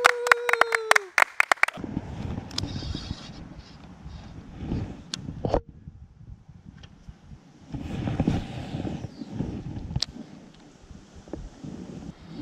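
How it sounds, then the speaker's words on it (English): A newlywed couple on their honeymoon claps for themselves outdoors: a short, close burst of sharp claps with a whoop, then gusting wind noise and low rumble. "Let's clap for ourselves since there's no one to clap."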